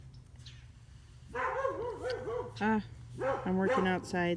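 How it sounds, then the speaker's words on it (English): A pet dog barks and yips in short bursts indoors while someone talks over it during a crochet lesson, the barks loud and close, clustered in several quick runs. "sorry, that's my dog."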